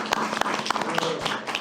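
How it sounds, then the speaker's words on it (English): Applause in a city council meeting room for a former mayor, a short burst of clapping from a small crowd at moderate volume. "You can give him applause."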